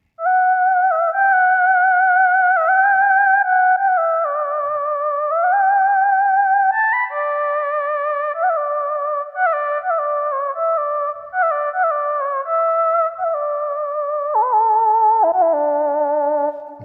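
A Tomita Vox synth lead from Studio One, set with no reverb, plays a flowing two-voice melody of smooth sustained notes. Up close and dry, it carries on steadily for about seventeen seconds with no talk over it.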